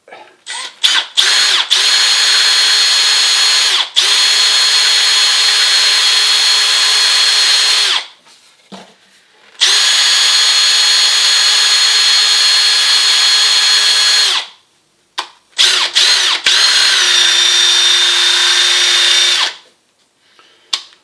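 A power drill with a 10mm brad point bit whines steadily in several long bursts separated by short pauses, boring loudly and close into old wooden stage floorboards.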